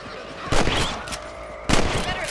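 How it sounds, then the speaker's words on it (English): Two rifle shots from Red Dead Redemption, fired at rabbits raiding farm crops, each a sharp loud crack with a short decaying tail, spaced about a second apart. "Better at shooting rabbits than outlaws, I see."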